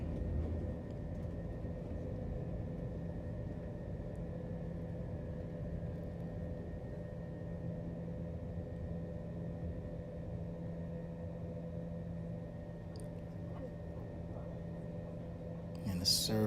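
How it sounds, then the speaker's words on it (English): A Qatar Airways A321 takes off from Belgrade on a cold day, heard from the business-class cabin as a steady low engine rumble and hum that holds evenly throughout with no talk. "And here's the takeoff from Belgrade."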